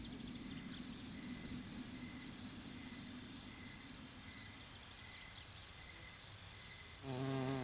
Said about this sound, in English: It is precisely the fact that the wings have a synchronized beat that produces the insect's well-known buzz.